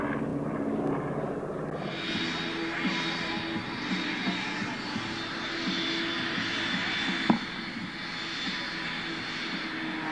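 Aircraft engine roaring steadily through a takeoff at the Wings Over The Illawarra 2017 air show, a continuous loud drone with a brief sharp bump near the end.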